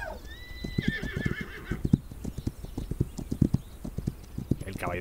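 Horse galloping in the western sandbox game This Land Is My Land, with steady clip-clop hoofbeats throughout, a loud whinny near the start and another neigh near the end, close and clear.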